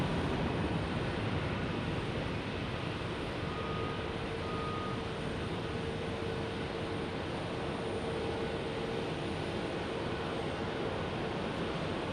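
Distant, steady roar of an airplane departing Phoenix Sky Harbor Airport, a broad, unbroken rumble with no talk, holding a fairly even level throughout.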